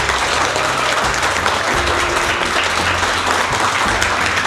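A hardware repair class bursts into sustained, loud applause, many hands clapping close by in an unbroken roar.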